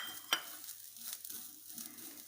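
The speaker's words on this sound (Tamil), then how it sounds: "அதே கடாயில் இந்த தேங்காய் நல்லா வறுத்துக்கலாம்" Coconut frying in a kadai for a village-style chicken curry, a soft, quiet sizzle with faint scraping stirs and one sharp clink near the start.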